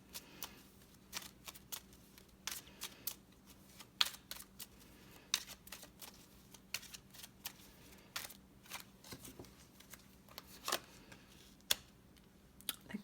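Lenormand cards are shuffled quietly up close, with many soft riffling clicks and brief flicks spread irregularly through the stretch, over a faint steady hum.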